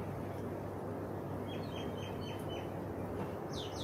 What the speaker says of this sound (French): un oiseau